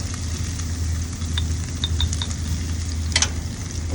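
Onion and jalapeños grill in a hot pan with a steady, close sizzle, and a few sharp ticks and small pops break through near the end.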